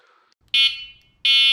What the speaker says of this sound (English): Your horn is pretty loud, louder than most that we hear.